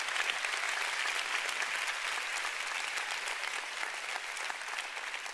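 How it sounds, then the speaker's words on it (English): A church congregation applauding, a dense, steady wash of many hands clapping at once that holds evenly for several seconds. "Why don't we give the Lord a big clap?"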